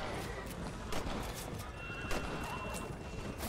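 Horse neighing with hooves clip-clopping in the video game Red Dead Redemption, a faint whinny over steady, soft hoofbeats and quiet ambient noise, no talk.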